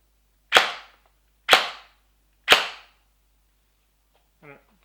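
Three sharp airsoft Glock 17 pistol shots fired over a chronograph, evenly spaced about a second apart, each a crisp close snap with a short decay, followed by a faint brief clack.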